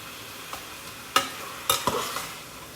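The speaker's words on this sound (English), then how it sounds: "Now I'm stirring in this garlic" Garlic stirred in a hot frying pan, a few scraping stir strokes over a steady soft sizzle, close and moderately loud, no voices.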